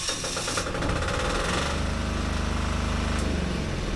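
Small diesel generator engine runs after its fuel lines are bled of air, a loud, close, rough mechanical clatter with a steady rapid rhythm and no voices.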